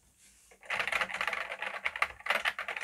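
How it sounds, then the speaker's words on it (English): Fast, steady typing on a Commodore 64 keyboard during a repair session, a dense close-up run of clacking keystrokes after a brief quiet start. "Upside down typing."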